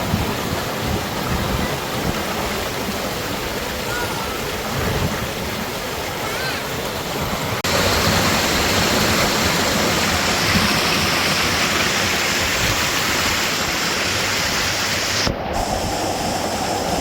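Water rushes in a continuous loud wash on a palm-fringed sea beach. The steady roar grows slightly fuller partway through and keeps going without a break.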